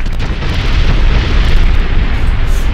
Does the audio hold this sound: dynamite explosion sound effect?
yes